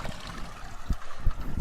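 Grey water from a motorhome tank flushing through the toilet waste pipes, a close, uneven trickle and gurgle with a couple of low knocks along the hose.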